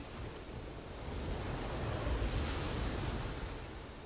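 Ocean waves wash steadily onto a shore in an animated film trailer scene, a continuous broadband surf that swells slightly louder midway, with no voices.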